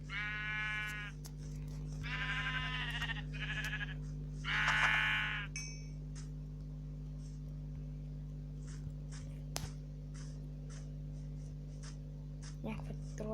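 Sheep in a video game let out several loud, close bleats in the first six seconds, followed by quieter clicks and taps over a steady electrical hum.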